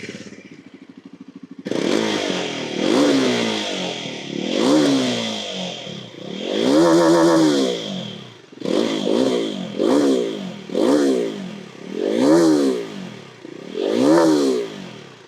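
Bajaj Pulsar NS 400Z motorcycle engine, a light-bodied, rev-happy bike, blipped through a series of sharp revs that rise and fall repeatedly, loud and close, with brief mechanical clatter between bursts and no talk.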